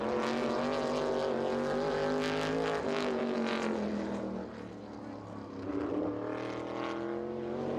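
A Midwest Modified race car roars through a lap at Owosso Speedway, its engine note loud and sustained with rising and falling pitch as it powers out of a turn, heard alone without voices.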